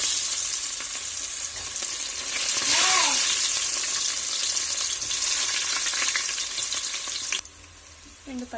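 Onions hit hot oil with cardamom, cloves, star anise, cinnamon, cumin and shahi jeera for a kushka, giving a loud, continuous close sizzle with stirring scrapes that drops off sharply near the end.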